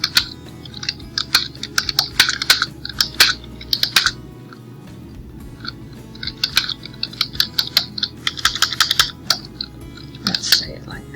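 Someone types a sentence into a chat on a computer keyboard, with close, crisp key clicks coming in uneven bursts and a short pause partway through, over a quiet room.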